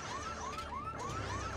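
A car alarm goes off at a distance, its rising and falling electronic wail repeating in steady sweeps, faint under low background rumble.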